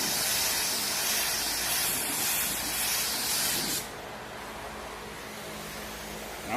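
A spray gun applying Speedokote clear coat over single-stage car paint hisses steadily, close and loud, then the spray stops and a quieter background hiss remains.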